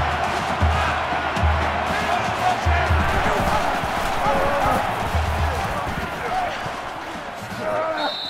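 A stadium crowd roars without pause at an LSU versus Alabama game in the NCAA Football 18 video game, a loud, dense wash of cheering with rhythmic low thumps beneath it and no one speaking over it.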